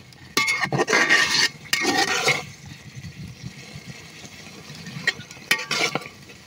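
Chicken and potatoes being stirred in a pot, with several bursts of scraping and clattering from the utensil against the pot over a faint background sizzle.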